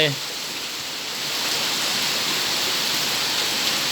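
Heavy monsoon rain falls in Mae Sai, Thailand, with floodwater running across a road, a dense, constant hiss and rush that grows slightly louder after a brief voice at the very start.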